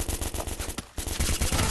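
Rapid bursts of automatic gunfire from a first-person shooter game fill the clip, loud and rhythmic, with a brief pause near the middle before the shooting resumes.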